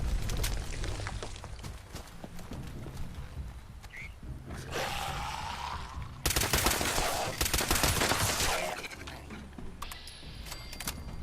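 Anti-armor explosive pipe rifle firing in a video game: dense, loud bursts of rapid gunfire with sharp blasts and mechanical clatter, broken by brief lulls and ringing tones between volleys.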